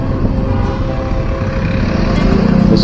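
A tall piece of heavy construction equipment runs at a road repair site in the Lembah Anai valley, its steady low engine rumble continuous and fairly loud alongside passing traffic.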